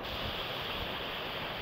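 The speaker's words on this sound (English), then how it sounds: "this is where the water is coming down" Water rushing down a small stream beside a hiking trail at Mosquito Valley near Williamsport, Pennsylvania, a steady, close, broadband wash that holds evenly throughout with no voices.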